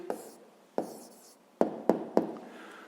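Pen or pencil writing by hand while a math answer is written down, a few short scratchy strokes with sharp taps at the starts, close and fairly quiet.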